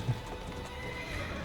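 Horse neighing with hooves clip-clopping in the video game Assassin's Creed Syndicate, a brief whinny near the start over steady hoof beats and busy game ambience, fairly quiet throughout.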